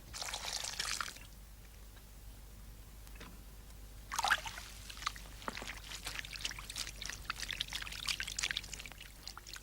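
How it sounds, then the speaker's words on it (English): Raw wool fleece is washed by hand in soft water, with quiet splashing and pouring bursts, a louder swirl partway through and steady trickling after. "washes carefully, pressing the wool gently so that it will not tangle or felt"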